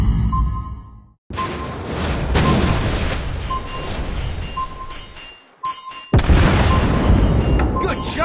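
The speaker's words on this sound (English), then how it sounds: "Torpedoes!" Torpedoes explode in World of Warships Blitz, the naval battle game, with heavy booming bursts and whooshing debris. A brief near-silence interrupts the sound twice before the loud blasts resume, and a voice is heard amid the noise.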